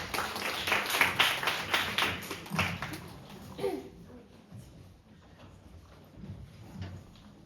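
An audience at a tourism revitalisation contest claps to welcome a presenting team onto the stage. Moderate applause is strongest at the start and fades over a few seconds into scattered claps and room noise.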